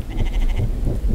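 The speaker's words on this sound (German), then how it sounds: "Irgendwo mäht es hier doch schon wieder." Sheep in the video game The Infected bleating, several wavering calls in quick succession, moderately close and alone without speech.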